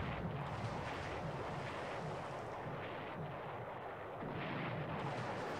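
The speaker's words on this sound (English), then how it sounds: "Bomb noise when a torpedo hits." A deep, rumbling explosion booms and rolls on with a heavy, noisy roar, like a game torpedo hit.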